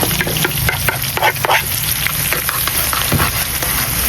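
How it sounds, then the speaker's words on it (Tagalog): Chopped onion and garlic sauté in hot oil, a steady close sizzle with scraping stir strokes through a Filipino squid and broccoli dish, loud and continuous with no talk. "Maglisa na tayo ng kanyang sangkap, bombay, at garlic"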